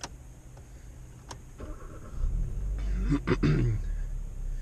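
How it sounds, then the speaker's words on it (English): A manual-transmission car's starter clicks and cranks briefly, then the engine catches and settles into a loud, close idle. "Foot all the way on the clutch, and then start the car."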